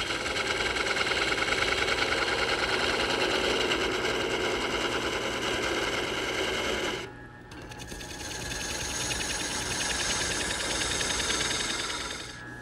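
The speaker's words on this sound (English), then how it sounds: "now I'm going to switch to a half inch gouge, and I'm going to work on this cove and rounding over the top of the base." A wood lathe spins steadily while a half-inch gouge cuts a cove and rounds over the top of a turned table lamp base, a loud continuous whir that dips briefly midway, then resumes.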